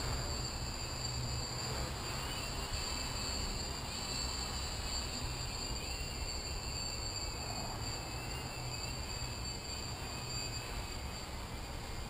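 Model aircraft motors flying in a parking lot, a continuous high-pitched electric whine with steady tones and a rough broadband roar, unbroken for the whole stretch at moderate distance.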